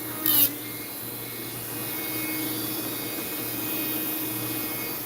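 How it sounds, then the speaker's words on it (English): Harbor Freight rotary tool sanding wood, a steady high whine running throughout after a brief sharp burst at the start, close and fairly loud with no talk. "A reformed tool snob with a Harbor Freight Dremel."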